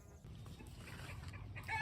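Soft clucking from chickens resting in the shade in a midsummer permaculture garden, faint and close, with a slightly louder cluck near the end over a quiet outdoor background.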